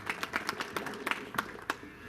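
Scattered, irregular hand claps come from a small crowd at an outdoor road foundation-stone ceremony, with distinct individual claps standing out over a low murmur.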